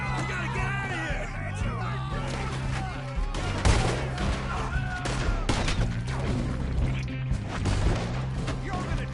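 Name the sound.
gunfire in video game Red Dead Redemption 2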